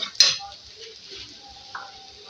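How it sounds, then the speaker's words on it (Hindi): Chicken mixture seasoned with masala powder fries in a pan for aloo resha kabab, a soft sizzle with a sharp utensil scrape against the pan near the start. "इसको फ्राई करेंगे।"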